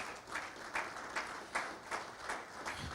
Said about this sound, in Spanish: Dele un aplauso a Jesucristo en esta mañana.